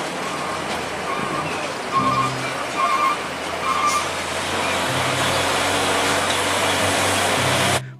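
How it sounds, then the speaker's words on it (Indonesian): A tanker truck pulling a trailer drives by on a city road, a loud continuous engine roar and road noise with a few brief tonal hums and beeps over the top. "Wih, mobil truk tangki gandeng teman-teman."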